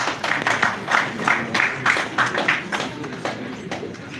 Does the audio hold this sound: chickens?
no